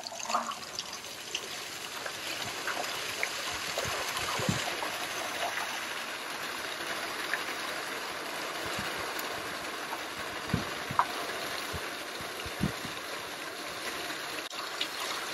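Water drains steadily from equipment tanks during winterization of an HXX unit, a continuous trickling and splashing flow with occasional small knocks, heard close with no talk.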